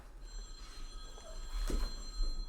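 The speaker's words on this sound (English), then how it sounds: "Yes, I know the phone's ringing." A telephone rings faintly in a room, a steady electronic ringing tone held under a quiet background, with no one speaking.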